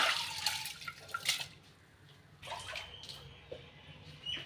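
Water is poured into a pressure cooker on a stove for pongal, a soft gurgling splash in two short bursts with a quiet pause between, close by.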